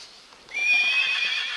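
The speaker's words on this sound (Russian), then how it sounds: "А еще у него был классный черный конь Буцефал" A black horse gives a loud, close whinny that rises and holds for about a second, the neigh standing alone with no talk over it.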